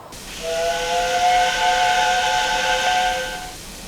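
A steam locomotive whistle blows one long, steady chord-like blast, mixed with loud hissing steam, lasting several seconds before cutting off.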